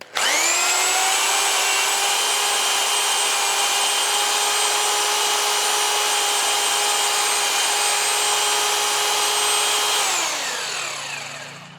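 Braxter BT226B-826 rotary hammer running in plain drilling mode with hammer action off, a loud steady motor whine held for about ten seconds before spinning down, with no talk.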